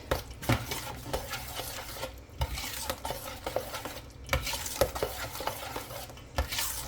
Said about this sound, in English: I can hold the bowl with one hand and stir with the other hand